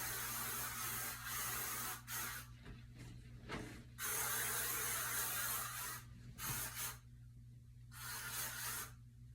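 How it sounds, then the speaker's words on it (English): Hairspray misted onto hair on a humid day comes in repeated close, loud aerosol hisses, four or five bursts separated by brief pauses, with a steady low hum underneath and no talking. "It is super humid today, so we are going to use hairspray."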